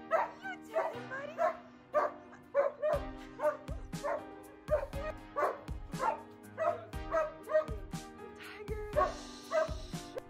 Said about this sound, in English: the room erupts with tail wags, excited barks, and ecstatic howls